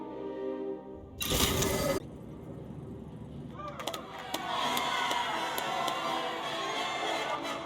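A video game arena crowd cheers and roars: a loud burst of noise early on, then a dense, steady wash of crowd sound that keeps going to the end.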